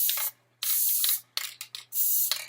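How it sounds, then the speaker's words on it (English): Several short bursts of hissing spray from a can of Gorilla Glue spray adhesive, a long steady burst then quicker spurts, close by and loud, with silent gaps between. "I'll spray a little bit of adhesive glue spray"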